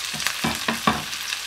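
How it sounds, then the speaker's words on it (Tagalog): Onion frying with mackerel in a pan gives a sizzle with a few quick stirring scrapes, close and clear, with no one talking. "At ilagay na din natin ang onion na pangkain."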